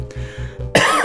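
A character coughs in the video game Aviary Attorney, a rhythmic pulsing tone first, then a short harsh cough that is close and clear.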